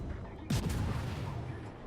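A single heavy ship's gun volley booms in World of Warships, a loud sudden blast with a rolling low rumble fading over the next second against steady background noise.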